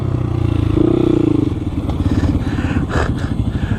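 A Honda Grom motorcycle doing wheelies, its small engine buzzing loud and close with a rising rev, then rattling and clattering with a thump as the front drops.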